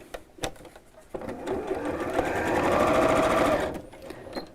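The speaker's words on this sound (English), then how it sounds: "I'm just going to sew down the side sections again just to hold that in place" Sewing machine stitching down the side sections of a fabric fold-over tie purse, a steady close mechanical whir that builds and holds for a few seconds before stopping, with faint handling clicks beforehand.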